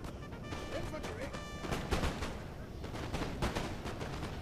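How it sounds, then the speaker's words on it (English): Ragged volleys of musket fire from militia and light infantry in Napoleon: Total War, rapid overlapping cracks and pops with a few heavier booms, steady and mid-distance throughout the short stretch of battle. "both the militia and the light infantry shooting that Russian light infantry"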